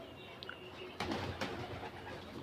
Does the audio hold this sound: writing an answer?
no